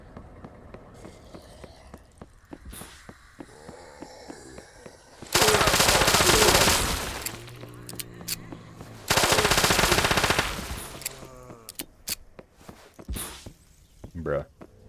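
Automatic weapon fire from the video game Those Who Remain, with two long, loud continuous bursts emptying the magazine, set among quieter footsteps and game sounds.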